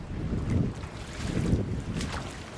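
Stream water rushes and churns as it turns a small hydropower wheel after a dam is removed from a river, a steady, fairly loud broadband wash with gusty wind buffeting the microphone and no talking.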